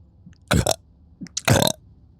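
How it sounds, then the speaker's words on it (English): Two loud, close burps made straight into a microphone, each about a quarter second long and spaced roughly a second apart, with no talking around them. "can you please burp into the microphone?"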